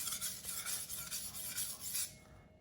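A cleaver is honed on an 800-grit MadEdge whetstone, rhythmic gritty strokes of steel scraping across stone, close and fairly quiet, ending abruptly.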